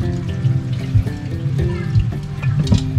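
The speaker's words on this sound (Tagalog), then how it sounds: "yung gripo namin na to, ginagamit namin to mga panghugas lang ng mga utensils, mga kaldero" Water from a tap at a resort campsite, used for washing utensils and cooking pots, runs and splashes in a steady trickle, loud and close with a low watery rumble and no talking.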